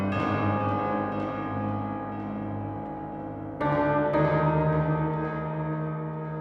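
Steinway piano blended into a pitched percussion sample library, sustained resonant chords ringing with bell-like overtones, a fresh struck chord entering midway and decaying slowly, full and fairly loud.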